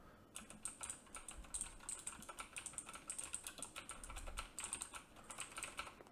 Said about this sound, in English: The second thing we're going to be doing is keyboard noise.